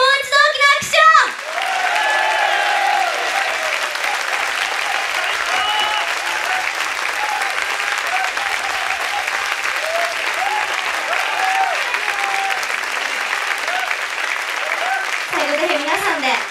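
A large concert crowd applauds a band at Shinjuku Blaze, dense sustained clapping filling the room after brief voices at the start, with voices and a short sound returning near the end.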